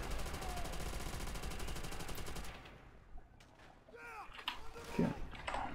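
Mounted MG firing in Call of Duty: World at War, a fast, steady stream of loud rounds for a couple of seconds, then stopping, followed by scattered distant shots, clanks and faint battle noise.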